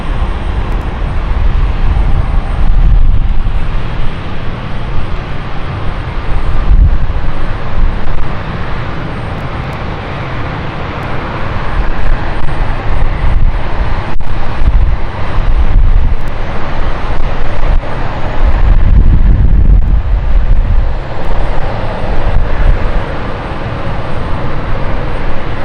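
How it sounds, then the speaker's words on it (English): An inbound CityJet airliner from Amsterdam arrives at London City Airport, a long loud jet roar that swells, dips and swells again, with wind buffeting the microphone. "Amsterdam flight of City Flight is inbound next."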